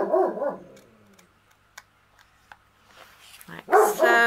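A pet dog barks in a home while a person frames a diamond painting, sharp harmonic yelps at the start and again near the end with quieter gaps and small clicks between.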